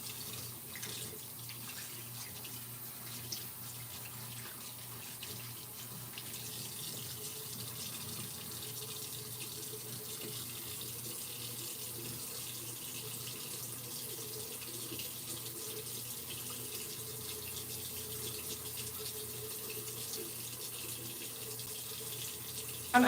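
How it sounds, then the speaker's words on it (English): A bathroom tap runs continuously during tooth brushing, a steady broad hiss of water into a sink that holds even throughout with small splashes and no voices. "I like left the water running for like a few minutes when I was like not using it"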